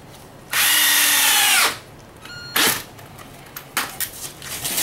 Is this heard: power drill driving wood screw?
yes